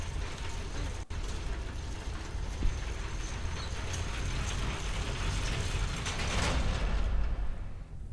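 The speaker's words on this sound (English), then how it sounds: "Now I need to use the crank on this, and that's gonna open the gate that I can enter from another side." A crank turns a gate mechanism in the horror game Song of Horror, producing a continuous grinding, clattering mechanical rattle with creaks. The sound swells slightly toward the end before easing off.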